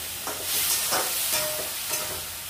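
A spoon scrapes through spices and crushed ginger frying in a pan with a little water, giving several distinct stirring strokes over a steady close sizzle.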